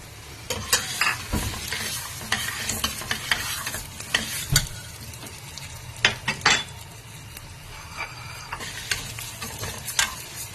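Toor dal frying in hot oil with cumin, coriander seeds and fenugreek, a close, busy sizzle punctuated by repeated sharp scrapes and clinks of a spatula stirring against the pan.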